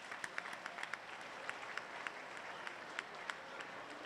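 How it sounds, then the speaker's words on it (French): Audience at a graduation ball and scholarship ceremony applauds the parents, steady medium-distance clapping with a few sharper claps standing out, no speech over it. "Donc, une bonne main d'applaudissements aux parents."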